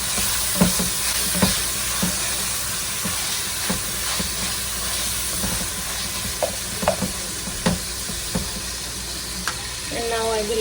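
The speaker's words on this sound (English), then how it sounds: "And now I will add the tomatoes." Tomatoes hiss and sizzle in a frying pan with ginger garlic paste, a steady loud frying noise broken by regular sharp clinks and scrapes of a spoon stirring, with a brief rattle near the end.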